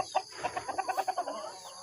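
Chickens, including Rhode Island Reds and young pullets, in a backyard coop. A run of rhythmic, evenly spaced clucks sounds from close by, with no speech.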